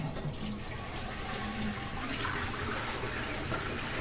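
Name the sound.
toilet being flushed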